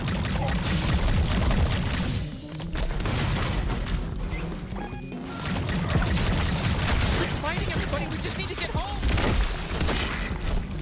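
Loud, chaotic combat in the video game High On Life, with a steady clattering barrage of Gatling gun fire mixed with crashes and impacts, while a voice talks over the din.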